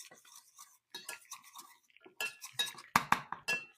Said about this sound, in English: we're going to add a little bit of flour in here. Just stir it up to thicken it.